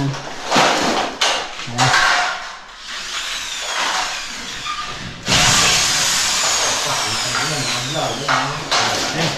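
A power drill whines in several bursts at a construction site where a ceiling is being built, with a longer sustained run near the end, amid clattering and people talking nearby.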